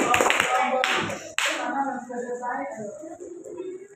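A small group bursts into several sharp rounds of hand clapping, loud and close, then fades as a person starts talking.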